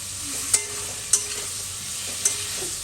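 Fish with cumin spice masala fries in a pan under a steady hiss, with three distinct scraping stir strokes spaced evenly across the sizzle.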